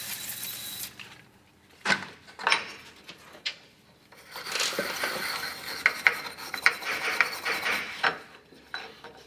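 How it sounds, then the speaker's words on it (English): Small stainless steel brush scrubbing an outboard fuel pump part wet with brake cleaner on a Johnson/Evinrude motor, uneven bursts of close, gritty rasping and rubbing with brief pauses, no talk. "I'm just going to use a bit more brake cleaner and a little stainless steel brush."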